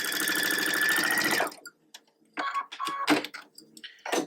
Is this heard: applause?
no